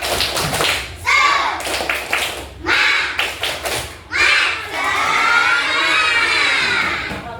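Schoolchildren in a classroom perform the tepuk semangat clapping chant, with bursts of rhythmic claps alternating with loud, chanted shouts that build into a long sustained yell at the end.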